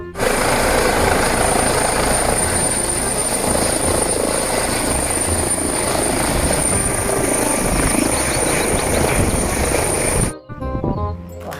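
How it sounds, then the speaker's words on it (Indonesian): A toy helicopter whirs loudly and continuously with a steady rotor chop, then cuts off abruptly near the end. "Yang ini namanya pesawat helikopter teman-teman."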